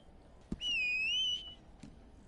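A single high-pitched whistle from a character in Red Dead Online, held for under a second with a gentle wavering pitch, clear and fairly close against a quiet background with a few soft thumps.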